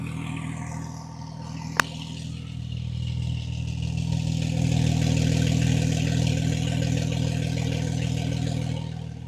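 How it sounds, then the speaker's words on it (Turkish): A limited-edition Porsche engine idles and revs, a steady mid-pitched growl that swells and holds before easing off, with a single sharp click early on and no voices. "Bu limitli sayıda olan Porsche. Şimdi size onun sesini dinleteceğim."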